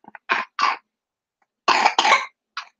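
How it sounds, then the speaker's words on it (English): A few sharp coughs in two quick bursts, close up, followed by one softer cough after a pause. "Cough it out"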